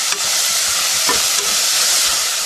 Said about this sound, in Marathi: कांदा पण आपल्याला लाल करून नाही, जास्त नाही, फक्त नरम करायचं आहे